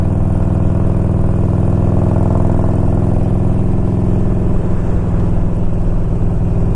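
A 1992 Harley-Davidson Road King with a freshly tuned carburetor idles loud and close, a steady deep lumpy throb holding evenly throughout.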